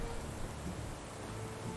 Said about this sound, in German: Da regnet's.